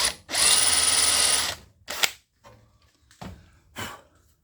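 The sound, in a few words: drill drilling into metal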